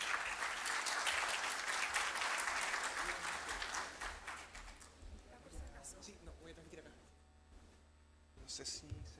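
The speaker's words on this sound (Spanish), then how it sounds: "Un aplauso, por favor" Seminar audience at a FHIR Connectathon applauding a speaker, a dense burst of clapping loud at first, then thinning and fading over several seconds with talk underneath and a brief swell at the end.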